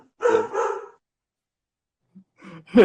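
A dog barks twice, close and loud, then falls quiet before a few softer barks and yips start up again toward the end, reacting to a car alarm outside.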